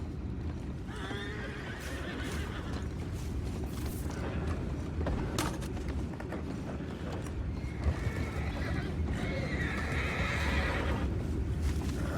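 Horses in the Red Dead Redemption 2 video game whinny twice, with a steady clip-clop of hooves and ambient rumble beneath, fairly quiet and without talk.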